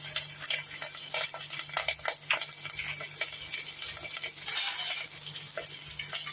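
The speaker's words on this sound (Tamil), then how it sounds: "எல்லாத்தையும் வறுத்துக்கலாம்." Curry leaves and cashews frying in a pan for rava pongal, a steady close sizzle with stirring scrapes and a brief louder burst near the end.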